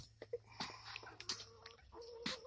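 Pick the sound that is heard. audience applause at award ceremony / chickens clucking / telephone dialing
chickens clucking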